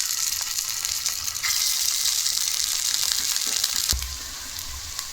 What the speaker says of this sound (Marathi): आता यामध्ये आपण हे बॉल्स ठेवू।